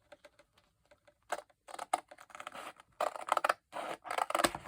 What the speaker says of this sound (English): I'm just going to snip over here again